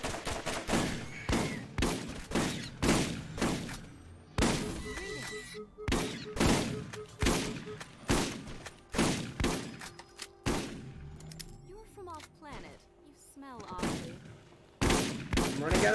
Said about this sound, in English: Be a man and shoot him.